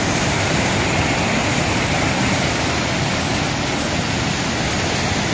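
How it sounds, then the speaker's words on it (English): A small rain-swollen waterfall on the Appalachian Trail roars as a loud, steady, broadband rush of water, unbroken and close throughout. "They got another little waterfall right over there."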